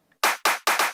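Crisp electronic clap samples in a dance track, four sharp evenly spaced hits played alone, each with a short bright decay.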